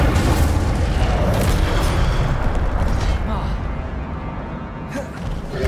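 Fire spell Incendio cast in the video game Hogwarts Legacy, a loud, dense whooshing burst that fills the clip, roaring steadily and easing slightly near the end.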